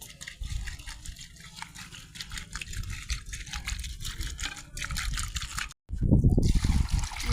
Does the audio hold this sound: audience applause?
no